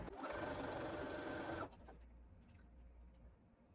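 A sewing machine runs fast and close as it stitches down quilt strips, a dense steady whir lasting under two seconds before it stops, leaving a quiet room with faint handling sounds.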